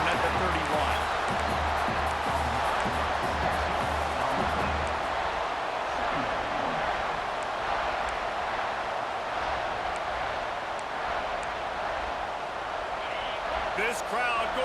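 Stadium crowd noise from the EA College Football 26 video game forms a loud constant roar with cheering, while commentators talk over it.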